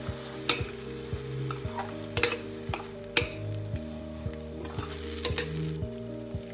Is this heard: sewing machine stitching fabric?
no